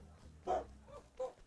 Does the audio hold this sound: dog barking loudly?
yes